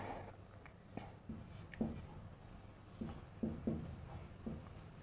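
Pen or pencil scratching on paper while a statement is written out, with soft irregular strokes and taps spread across the quiet background.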